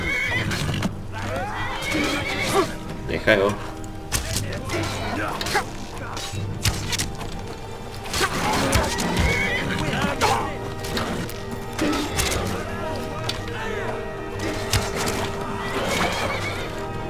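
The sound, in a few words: horse neighing in the video game Skyrim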